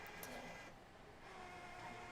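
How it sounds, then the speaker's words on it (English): A printer runs steadily, a faint, even whir with soft mechanical hiss and a couple of light clicks at the start, no voices. "You doing okay there, printer?"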